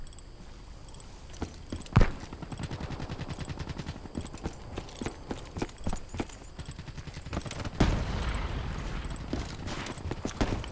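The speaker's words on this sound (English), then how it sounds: "Goddamn shotguns! I hate shotguns." Gunfire in a shooter video game, with repeated sharp blasts and one loud close shot standing out among rapid bursts. Steady clattering game action runs underneath throughout.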